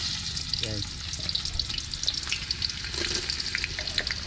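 Onions sizzle in hot oil in a pan during outdoor cooking beside a river, a steady close crackle and hiss with a few scraping stirs.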